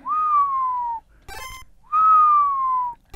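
Two long, gently falling whistle tones sound in Tecmo Super Bowl on the Nintendo, each about a second long and clear, with a brief burst of other noise between them.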